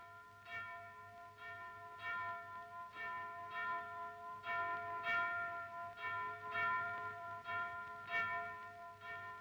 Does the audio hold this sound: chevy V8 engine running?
no